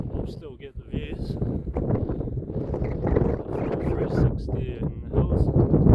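Gusty wind buffets the microphone on an open hilltop, a loud rumbling roar that swells and dips throughout while someone talks briefly over it.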